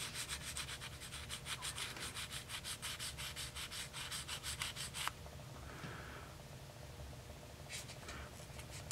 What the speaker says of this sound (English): I just take a piece of 400 grit sandpaper and just lightly polish those legs up